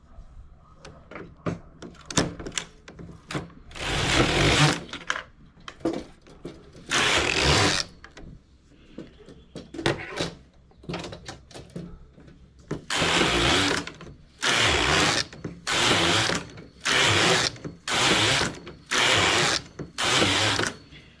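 A knitting machine works tubular knit with two strands of industrial yarn, with bursts of loud mechanical carriage rattling alternating with softer clicks and ratcheting, close and repeated.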